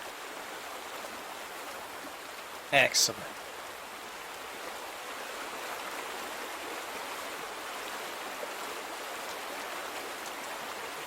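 Water flowing over rocks in a shallow stream in the game The Vanishing of Ethan Carter, a steady soft rushing wash throughout, with a brief spoken word near the start.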